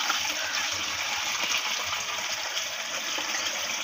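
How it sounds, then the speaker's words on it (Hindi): Water runs steadily in a bathroom as medicine is mixed into it, a continuous close gushing like a tap filling a tub, with no pauses and no voices. "पहले इसको पानी के अंदर रख के मिक्स कर लेते हैं"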